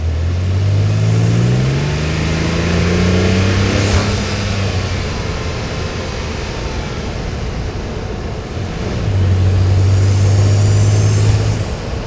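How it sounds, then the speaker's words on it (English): Engine intake and turbo boost noise from a Toyota Tundra TRD Pro pickup, captured up close under the hood while driving. A loud, steady drone rises in pitch through acceleration, dips briefly, then climbs again. "I have a mic under the hood, so let's see if we can capture some intake and boost noises."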